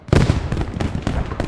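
A mine detonates in a Post Scriptum match, setting off a loud, close, crackling burst that rolls on as a dense rumble with further sharp pops over the next second.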